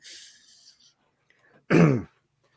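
A person gives one sharp, close cough near the end, after a few seconds of faint breathy sounds.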